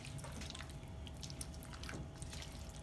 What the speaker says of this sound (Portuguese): já começou a borbulhar de novo